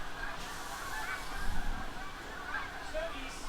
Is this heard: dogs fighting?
no